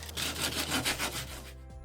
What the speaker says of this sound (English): next, I'll take some sandpaper and sand it down